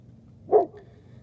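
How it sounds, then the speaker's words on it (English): A dog barking outdoors, a single short bark at moderate distance over quiet background noise. "She's barking at something"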